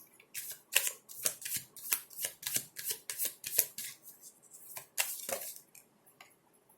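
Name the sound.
shuffling Whispers of Love Oracle deck cards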